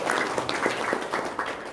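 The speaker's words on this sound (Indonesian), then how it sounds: "tepuk tangan dong" Audience clapping at a seminar, a scattered patter of moderate claps at medium distance, fairly quiet, with a few short bursts standing out.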